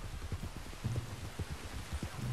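Steady rain in the Red Dead Redemption 2 video game, a constant hiss of falling drops with faint low thuds scattered through it.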